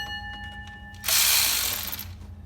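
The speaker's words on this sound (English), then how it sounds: "I'm gonna go ahead and grab my my 3/8 ratchet, tensioner pulley." A 3/8 ratchet working on the tensioner pulley of a 1998-2002 Camaro or Trans Am LS engine, with a faint tone and light clicks followed by a sudden loud rasping burst that fades over about a second.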